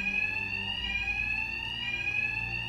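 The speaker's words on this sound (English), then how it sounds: "these thugs can't hear a thing over the alarms." Steady, loud electronic alarm ringing continuously inside a bank in a Batman video game, with sustained high-pitched tones holding throughout and no talking.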